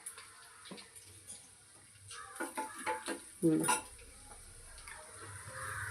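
Coriander and asafoetida dropped into hot oil for a tempering, bursts of sizzling and stirring with clinks of pots and utensils, growing louder midway, with a soft voice in the background.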